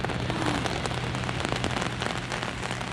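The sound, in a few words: rain falling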